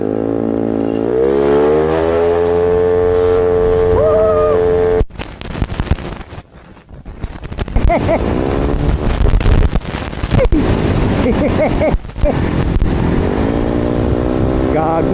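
A Yamaha Aerox scooter runs steadily on a break-in test ride, its engine note first holding an even harmonic drone, then broken up by loud wind buffeting on the microphone as riding continues.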